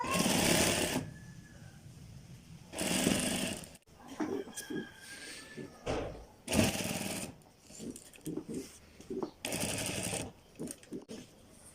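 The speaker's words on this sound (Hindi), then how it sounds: "यहाँ से अब हम अपनी स्टिचिंग का आगाज़ करते हैं" A sewing machine stitching a shirt runs in several loud, rapid whirring bursts separated by pauses, while someone talks between the runs.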